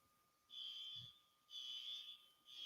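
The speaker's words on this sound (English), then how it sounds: "Yeah, we got a fire alarm." A fire alarm sounds in repeated high electronic beeps, each about a second long with short gaps between them. The beeps are faint and distant, as if heard from another room.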